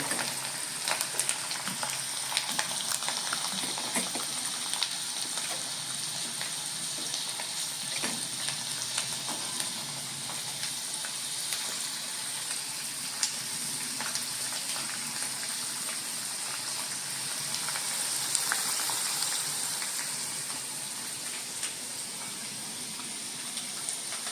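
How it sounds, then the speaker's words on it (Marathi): Steady sizzling and crackling of garlic frying in hot oil until crisp and reddish, fairly quiet and continuous with no talking. "आपण ही घेतलेली लसूण या फोडणीमध्ये मंडळी लसूण एकदम मस्त खडून खरपूस झाली पाहिजे"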